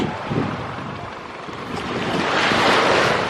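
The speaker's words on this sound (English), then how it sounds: "Look, it's the water, it's the ocean. We're at the beach." Ocean surf at a beach resort in Puerto Plata, Dominican Republic, a loud continuous wash of waves swelling toward the end, mixed with wind buffeting the microphone.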